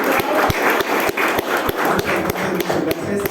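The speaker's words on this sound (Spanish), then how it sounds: "Entonces, por favor, un segundo aplauso para" Audience applause at a game-design conference session during Ventana Sur 2022: a dense, steady wash of clapping with sharp individual claps standing out, filling the full few seconds.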